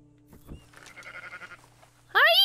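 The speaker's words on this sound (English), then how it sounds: "No, I don't want to talk to the sheep." A sheep in the video game Red Dead Redemption 2 bleats loudly near the end, a short wavering cry following faint rustling and a quiet voice.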